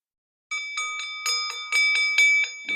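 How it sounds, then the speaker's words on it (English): A bell rings in a quick series of bright, metallic strikes, about a dozen in steady rhythm, loud and close with nothing else underneath, like a school bell. "Got a ring-a-ling-a-ling, school bell ring."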